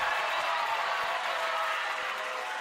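Gym crowd at a high school girls' volleyball tournament applauding and cheering after a kill, a dense steady wash of clapping and voices throughout.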